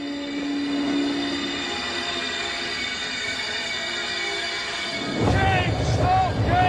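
A train slows toward a station stop, with a steady rumbling run and whining tones, then a louder burst of brake squeal and clatter near the end.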